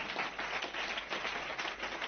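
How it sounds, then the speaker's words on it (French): A church congregation at a French-language worship service claps together in a steady, moderately quiet burst of applause that holds evenly throughout. "Donnez-lui une main d'acclamation de bénédiction."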